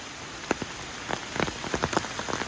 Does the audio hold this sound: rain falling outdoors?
yes